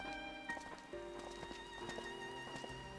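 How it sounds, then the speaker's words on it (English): Rain pattering steadily on surfaces in Final Fantasy XIV, a soft, fairly faint patter beneath sustained background music tones, with a few light knocks scattered through. "And why is it suddenly raining?"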